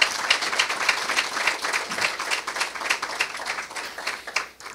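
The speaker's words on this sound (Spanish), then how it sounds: "También les pido que la recibamos con un fuerte aplauso." An audience at an academic lecture claps in a moderate round of applause, individual claps distinct at first, then thinning and fading away at the end.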